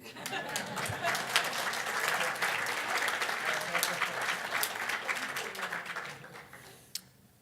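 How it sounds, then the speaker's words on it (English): Audience applause at a gala dinner, a full steady round of clapping with some crowd chatter and laughter, tapering off near the end with a last stray clap. "a big round of applause"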